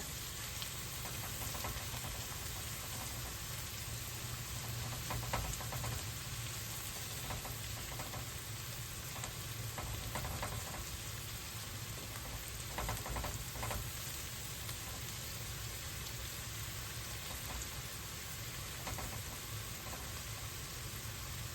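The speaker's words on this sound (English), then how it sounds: "We get these all sauteed up till they're like just translucent." Vegetables sauté in a pan for kielbasa and white bean soup, giving a steady, close sizzle and crackle that runs unbroken throughout with no one talking.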